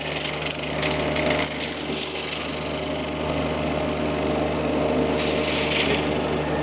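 Mulcher head on a mini skid steer shredding a standing tree: a loud, unbroken grinding roar of chewing wood over a heavy engine drone, with brief surges of harsher crunching.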